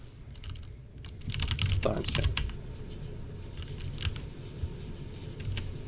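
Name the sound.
typing on a computer keyboard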